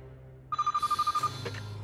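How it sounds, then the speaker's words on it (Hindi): A telephone rings in a Hindi-dubbed action film, a rapid trilling electronic bell that starts abruptly, pulses about a dozen times in quick succession, then cuts off. "अर्जुन का ही फोन होगा"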